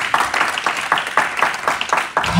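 A church congregation claps together for Jesus, a loud, steady, rhythmic beat of many hands with a few voices mixed in.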